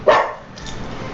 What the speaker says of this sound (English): David, can you tell the dog to shut the hell up?